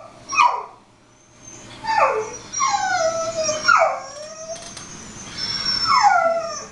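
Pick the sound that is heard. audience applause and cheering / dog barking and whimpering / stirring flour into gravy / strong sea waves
dog barking and whimpering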